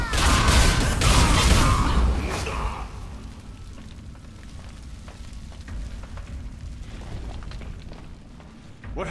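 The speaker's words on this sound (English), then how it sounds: "I heard an explosion." A loud, booming explosion from the fantasy action game Blade & Soul erupts at the start and fades after about two and a half seconds into a lower, rumbling game ambience with scattered faint clicks.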